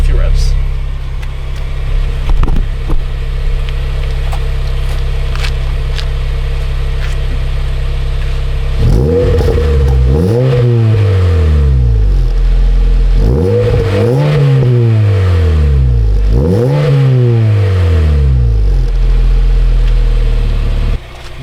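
A Honda Fit fitted with an HKS high power silent exhaust idles at first, then is revved three times, each blip rising and falling in pitch. The revs are loud and close, with a voice talking briefly early on.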